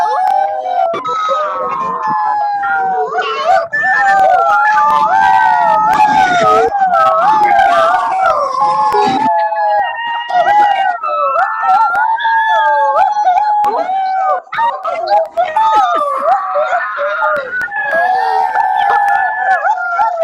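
Several people imitate fox howls together, rising and falling wavering calls that overlap in a chorus, loud and close throughout.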